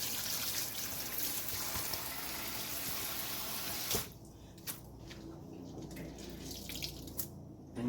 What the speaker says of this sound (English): Give it a little bit of a douse in the clean tank, in the clean side.